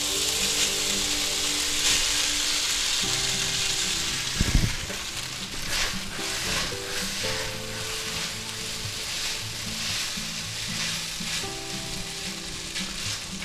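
Shin Ramyun noodles fry in an oiled pan for chicken chow mein, giving a steady, dense sizzle up close that runs without a break, with a brief clunk partway through as they are stirred.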